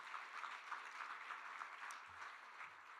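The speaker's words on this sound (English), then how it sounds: "So everybody, round of applause," An audience at a conference gives a round of applause to welcome new directors, fairly quiet, steady clapping heard from a distance, with a couple of brief low thumps near the end.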